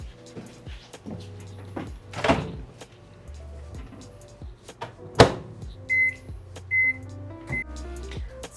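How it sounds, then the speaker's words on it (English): Microwave oven melting butter in a home kitchen: a low steady hum runs throughout, broken by loud clunks and clatters of the door and cupboards and a few high electronic beeps near the end, with no talking. "I'm going to go ahead and melt my butter in the microwave"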